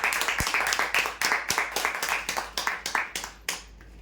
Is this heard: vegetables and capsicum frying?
no